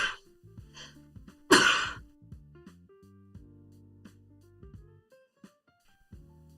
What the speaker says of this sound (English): oh, I got to sneeze